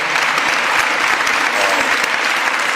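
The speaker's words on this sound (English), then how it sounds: "let's give our mayor, Cherelle Parker, a real big round of applause as well" Loud, dense applause from an audience at a Philadelphia civic announcement of America's 250th anniversary celebrations, honoring Mayor Cherelle Parker; steady clapping throughout with a faint murmur of voices.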